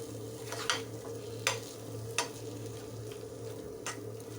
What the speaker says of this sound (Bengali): মুগ ডাল বাটাটাকে দিয়ে খুব ভালো করে নাড়াতে হবে মশলার সাথে